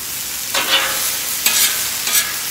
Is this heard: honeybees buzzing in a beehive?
no